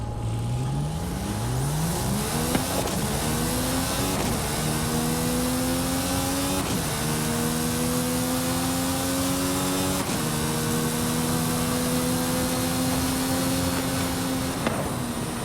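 An AMG car engine in a racing video game revs up repeatedly, rising in pitch through a series of gear changes with short drops between them, loud and continuous with no talk.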